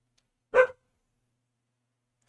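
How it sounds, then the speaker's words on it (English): A dog gives a single short, loud bark close by, followed by quiet, with a faint sound just at the end. "my dog going crazy"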